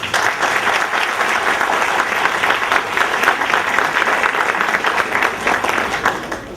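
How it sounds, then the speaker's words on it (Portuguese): Sustained, dense applause from a seated audience at an academic symposium in Ipu, Ibiapaba, honoring speaker Gilmar de Carvalho, steady and loud throughout before easing slightly at the end. "palmas para Gilmar de Carvalho"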